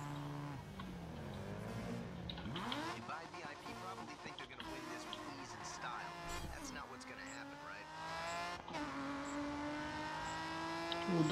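A Nissan race car in the racing game GRID 2 revs and accelerates, with tire squeal and shifting engine pitch throughout, loud and continuous while someone talks over it.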